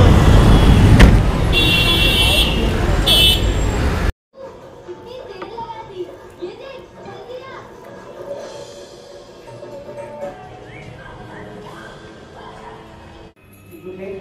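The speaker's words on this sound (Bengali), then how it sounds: "চলে এসেছে বৌদিদের গাড়ি।" A car pulls up and idles on a busy city street, its engine running steadily beneath children's voices, chatter and passing traffic, after a loud close burst of noise at the start.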